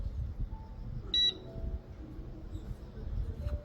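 A digital kitchen timer is stopped during hand-drip coffee brewing with a conical dripper, giving one short, thin high beep, then a fainter chirp near the end over low background rumble.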